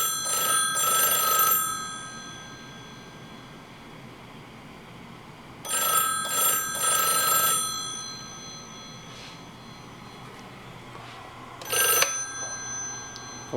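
An old telephone rings on a party line in a short-short-long cadence, three groups of bell bursts separated by pauses, fairly loud and alone with no talking.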